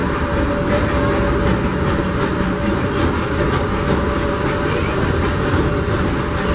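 The Disneyland Railroad train, pulled by the C.K. Holliday #1 steam locomotive, rolls along its rails with a steady rumbling clatter and a faint hiss, heard from aboard the moving cars.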